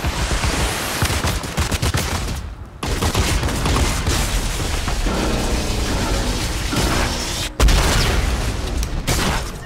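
Rapid automatic sniper rifle fire in a Fortnite match at Tilted Towers, dense overlapping shots and booms running nearly continuously, with brief gaps and a louder burst near the end.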